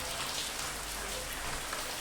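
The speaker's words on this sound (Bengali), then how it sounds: "এই দেখো বাইরে একটু বৃষ্টি পড়ছে" Rain falls outside a home, a soft, steady hiss of drops that stays even throughout, heard fairly faintly and without any voices.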